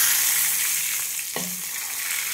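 Lentils, chillies and curry leaves hit hot oil for a tempering, setting off a steady close sizzle with a sharper crackling burst partway through, and no talking.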